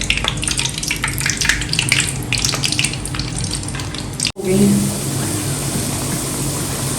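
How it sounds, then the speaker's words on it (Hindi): Thinly rolled dough is dropped into hot ghee and fries with a loud, steady sizzle, briefly interrupted by a sharp break before bubbling frying resumes, with no talking. "अब हम इसे गरम घी के अंदर डालेंगे"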